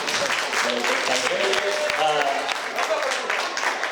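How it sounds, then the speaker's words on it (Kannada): An audience at a Kannada quiz session claps for a correct answer, a steady burst of crowd applause lasting a few seconds with voices mixed in. "ಚಪ್ಪಾಳೆ ಕೊಡಿ."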